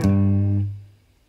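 A single sustained electric guitar note from a blues rock line, struck and held with a slight quarter-tone bend, ringing alone before decaying to quiet.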